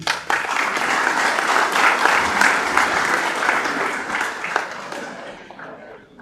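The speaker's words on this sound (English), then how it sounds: "Big round of applause, please." Audience applause at a council meeting general assembly, a dense sustained burst of many hands clapping that gradually fades out toward the end.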